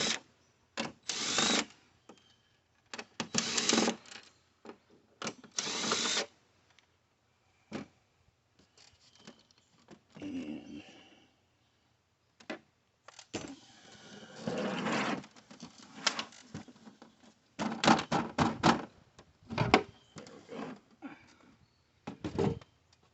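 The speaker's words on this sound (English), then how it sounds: "The first thing I'll do is take the base off." Base being unscrewed and detached from a digital TV, with bursts of screwdriver or power-tool whirring separated by pauses, plus clicks and plastic handling noises at close range.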